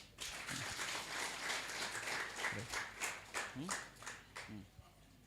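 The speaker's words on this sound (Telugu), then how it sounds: "చప్పట్లు కొట్టండి." An audience at a Telugu Christian sermon breaks into applause, a moderately distant burst of scattered clapping that swells and tapers, mixed with some voices.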